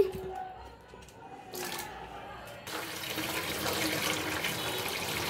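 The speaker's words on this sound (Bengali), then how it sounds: "দেখো পেঁপেগুলো সুন্দর করে ধুয়ে নিলাম।" Cut papaya pieces are washed under running water in a kitchen. Quiet handling and clinks come first, then a steady, moderately loud splashing flow of water.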